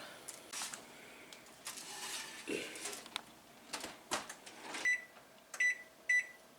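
A kitchen oven timer set at 400 degrees for baking stuffed mushrooms gives three short, clear electronic beeps near the end, after some soft handling clatter and bumps.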